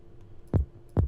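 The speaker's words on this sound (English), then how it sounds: "So this is a kick I made on Serum." Two punchy kick thumps synthesized in Serum from a sine wave, each a quick downward pitch drop into a deep boom, spaced about half a second apart.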